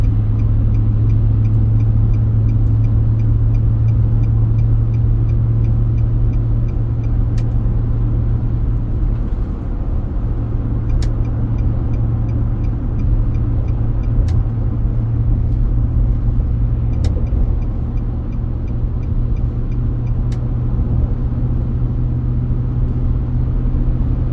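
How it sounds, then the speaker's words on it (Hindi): A car cruises along a road with a steady low engine rumble and tire drone, a continuous close interior hum that dips briefly once midway, with faint periodic ticks and no talking. "और यहाँ पे आके अब हम अपनी गाड़ी की रफ्तार को भी इस रोड के मुताबिक कर लेंगे"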